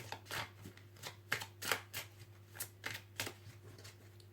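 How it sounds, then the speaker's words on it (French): Oracle cards shuffled and drawn by hand for a reading, giving a quiet, close run of soft irregular riffling and slapping bursts over a low steady hum, with no voices. "Avec cet oracle, je vais tirer 4 cartes."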